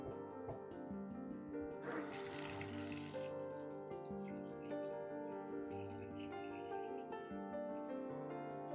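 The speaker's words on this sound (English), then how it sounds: "So yeah, that's draining better than it was before" Water runs and drains through a freshly cleaned bathroom sink pop-up drain. A short, louder gush of flow is followed by softer trickling and gurgling, close up. A faint tonal background hum plays underneath throughout.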